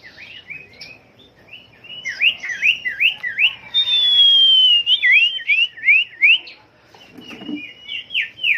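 A huýt cô songbird sings close and clear, repeated rising whistled phrases in quick series, with one long sliding whistle in the middle and brief pauses between bursts, alone against a quiet background.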